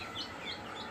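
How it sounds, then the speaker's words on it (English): Ayam Cemani chick peeping softly out in the pens, a few faint high chirps repeating at a steady pace over a low background hum. "So I kept hearing chirping,"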